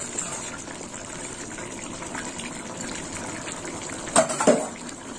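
Sweet sauce with three spoons of sugar simmering in a pan, a steady low bubbling hiss that runs throughout, with a couple of brief louder bubbling bursts near the end.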